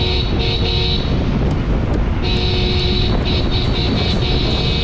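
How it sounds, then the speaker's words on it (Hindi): A Toyota Fortuner horn fitted to a Honda Brio hatchback blares loudly and close by in a steady, sustained tone, broken by short gaps and then resumed, with no talking. "ये हॉर्न सफिशिएंट होता है किसी ट्रैफिक में किसी को चेतावनी देने के लिए भाई कि हट जाओ साइड"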